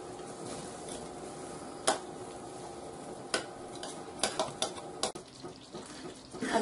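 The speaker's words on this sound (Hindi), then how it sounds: "अब इसे हम लगातार चलाते हुए 2 मिनट तक फिर से पकाएंगे" Semolina, mawa and nut mixture for rava ladoo stirred in a pan over high heat, with a steady soft scraping and gentle sizzle broken by several sharp spoon knocks against the pan, close and moderately quiet, no talking.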